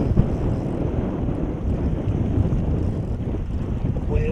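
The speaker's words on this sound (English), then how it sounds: "Wind's picking up." Strong wind buffets a fishing boat on open water, a loud continuous low roar and rumble filling the whole stretch with no talk.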